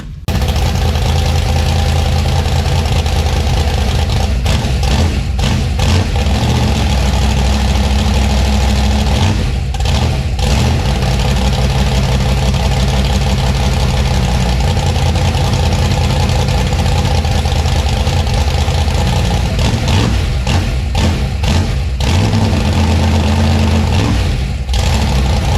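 A gasser car engine idles loudly and steadily after carburetor tuning, with a few brief blips of throttle breaking the rumble.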